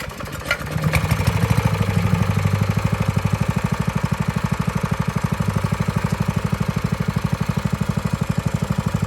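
Small engine, of the sort used while herding and washing a vehicle, catching and then idling with a steady, rapid pulsing chug that stays loud and close throughout, no talking.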